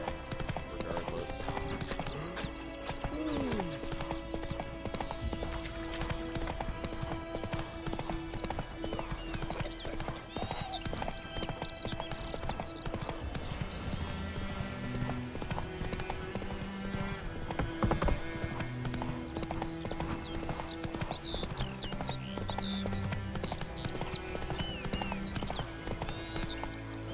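Hooves of Roach, a horse in The Witcher 3 video game, clop at a steady walking pace close by, with music playing beneath and an occasional snort or whinny.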